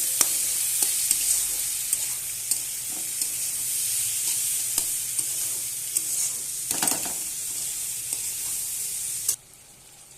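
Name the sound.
fish head and ingredients frying and stirred in hot oil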